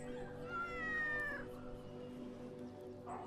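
A cat meows in a horror video game set in a village, a drawn-out, wavering cry near the start that fades, followed by a short second call, fairly faint over low background sound.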